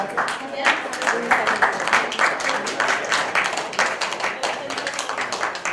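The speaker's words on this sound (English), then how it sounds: "A round of applause for those." Applause from the audience at a candidate forum at the Spenard center, a steady patter of many hands clapping for several seconds at moderate distance, with a faint murmur beneath.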